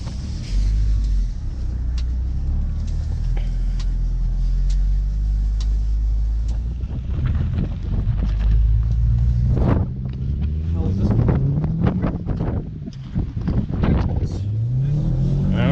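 Audi Quattro plowing through deep snow during a bomb cyclone storm, its engine droning and revving continuously up close, with wind buffeting the microphone and a voice talking over it at times.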